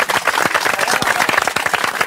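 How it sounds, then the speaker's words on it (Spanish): Applause and clapping from a crowd gathered at a village event in Llorío, Llaviana, Asturias, a dense patter of hands lasting about two seconds with a few voices mixed in. "Un aplauso."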